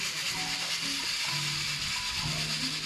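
Coffee beans roasting by hand in a pan give a steady, soft sizzling crackle, close and continuous with no talk.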